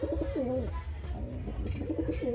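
A pair of pure-bred Kalanka and Ablak pigeons coo up close, with repeated rolling, warbling coos that rise and fall in short bursts.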